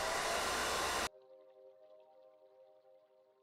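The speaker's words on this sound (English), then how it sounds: "So we're going to get the hairdryer." A hair dryer blasts loudly and steadily on a large painted miniature model, then cuts off abruptly after about a second, leaving a faint lingering hum.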